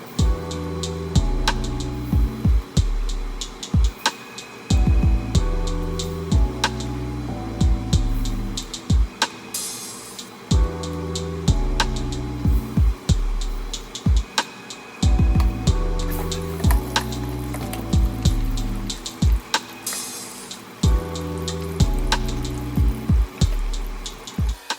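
Chicken wings frying in oil in a deep fryer set to 340 degrees, a continuous bubbling sizzle with crackling pops, close and fairly loud, running under a repeating musical backing.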